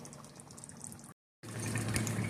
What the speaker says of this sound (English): I just cook on a fairly low heat and just let it sit there and bubble until all the moisture is gone